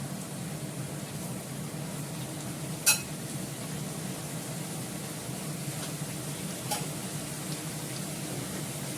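Spices, ginger paste and green chili are stirred in a hot pan, making a soft steady sizzle with a couple of sharp utensil clinks against the pan.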